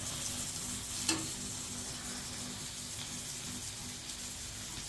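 Tomatoes and curry leaves sauté in a pan for a potato and cabbage kurma, giving a constant soft sizzle close by with a single sharp click early on.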